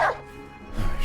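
A dog barks in Indiana Jones and the Great Circle, two short, close barks spaced about a second apart against low ambient noise.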